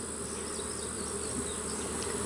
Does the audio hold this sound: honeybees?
yes